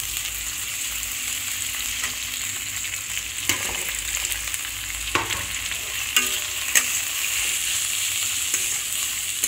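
Potatoes and onions fry in a hot pan with a constant bright sizzle, while a spatula stirs them in intermittent scraping strokes that rise a little above the hiss, close and fairly loud.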